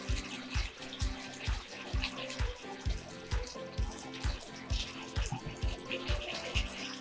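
Shrimp chili sauce with egg stirred in comes up to a boil in a pan, giving a steady bubbling and burbling with rhythmic low pops throughout, close and moderate, with no talking.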